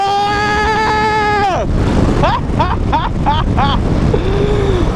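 A Harley-Davidson FXDR 114 cruiser motorcycle being ridden, its engine drone rising and then dropping, followed by quick rising revs through gear changes, all under loud wind noise.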